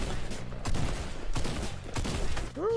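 Rapid gunfire from a grey pistol in a French-language role-play video game, several close, loud shots in quick bursts with a sharp electronic tone at the end.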